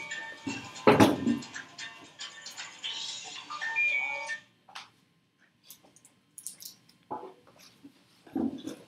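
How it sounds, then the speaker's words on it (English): A mobile phone ringtone plays a short, bright melodic pattern for a few seconds, then cuts off and is followed by a few scattered clicks and handling noises. "Shut my phone up real quick."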